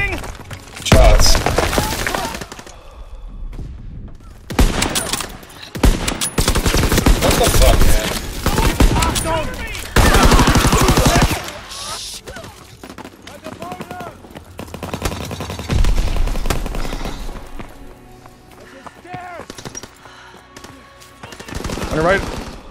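Rapid gunfire bursts from Call of Duty: World War II gameplay, loud automatic volleys broken by brief pauses and a reload, with a player talking excitedly between bursts.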